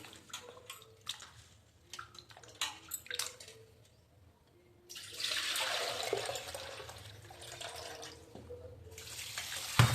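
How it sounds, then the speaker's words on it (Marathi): Fresh fish is washed under water, with scattered splashes and clatter first, then a steady, rushing stream of running water in the second half, close and moderately loud. "त्यामुळे 2-3 पाण्याने मस्त धुवून घेतलं"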